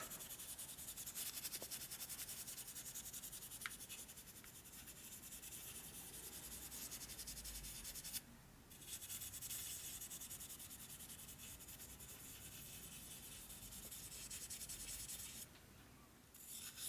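Steady scrubbing and rubbing by hand on an old OEM 1947-54 Harley panhead tombstone chrome taillight, an even abrasive swishing that runs continuously with only brief pauses.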